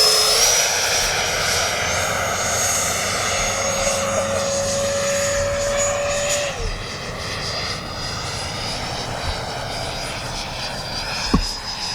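A 90mm RC Eurofighter Typhoon jet flies past with a steady, loud turbine whine and roar, a rising tone sliding through the middle, then it fades slightly with a brief sharp pop near the end.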